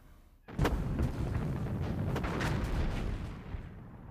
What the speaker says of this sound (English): In just 2 weeks, they fire almost 2 million shells